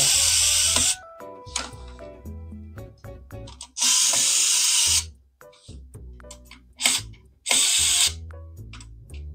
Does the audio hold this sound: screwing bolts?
yes